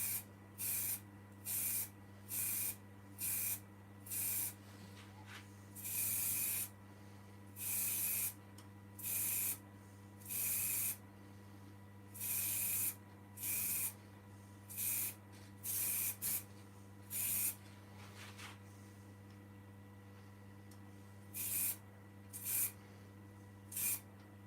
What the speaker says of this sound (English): Now what I'm putting on first is some ebonizing lacquer. You can use just ordinary rattle can black gloss paint.